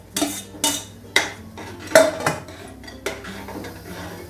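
A metal spoon stirs horse gram curry in a cooking pot, giving a series of distinct scraping clinks at an irregular, steady pace, close and fairly loud with no talking.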